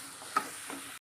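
Spoon working yogurt into a thick chicken masala in a pan for pepper chicken, a soft wet scraping and stirring, close and steady for about a second with one slightly sharper scrape.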